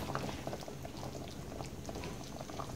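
Hamburger steak patties simmer in onion gravy in a pan, making a dense, close bubbling and popping that continues steadily throughout.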